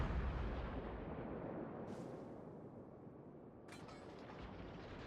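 Deep, rumbling naval gunfire from the Des Moines heavy cruiser in World of Warships, a continuous heavy barrage of booms with brief sharper bursts, loud and close throughout with no talking.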